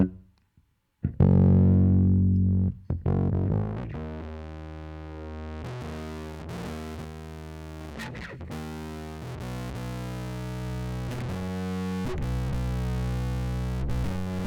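Heavily distorted electric guitar through the elysia karacter plugin in shred mode, thick and saturated, with a chord struck and ringing before further sustained, buzzing notes ring on loudly.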